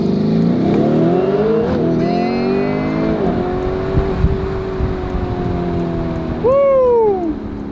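A McLaren 600LT pulls away from a traffic light, its engine revving hard through rising gear sweeps with sharp shifts, loud and close, ending in a final high-pitched surge as voices murmur briefly.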